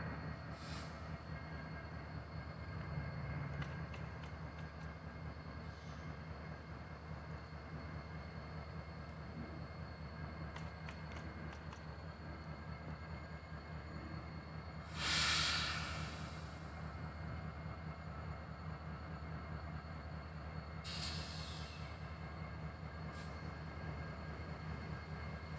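Union Pacific 8318 leads a northbound freight train departing, with a continuous low rumble and rolling wheel noise heard from a distance, and brief louder bursts partway through.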